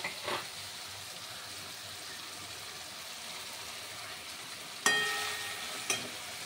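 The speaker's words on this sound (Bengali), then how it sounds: "এইবার আমি দেব আদা আর কাঁচা লঙ্কা বাটা।" Ginger and green chili paste goes into mutton frying in a pan, giving a soft, steady sizzle close by, broken by two sharp clinks of a utensil near the end.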